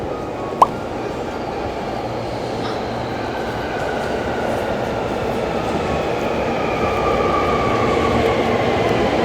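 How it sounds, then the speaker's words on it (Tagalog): At Kyoto Station's platform 6 on a rainy morning, a train rumbles with a broad, steady roar that slowly grows louder, with one brief sharp click near the start and no talking. "Here's the train."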